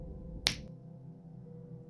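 A single crisp finger snap, sharp and close, set against a soft, quiet background hum that lingers after it.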